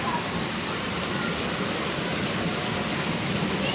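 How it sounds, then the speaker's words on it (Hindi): Heavy rain from the first rainfall of the season during a storm pours down as a dense, steady hiss that stays constant and fairly loud throughout, with no voices. "तो ये थी पहली बारिश।"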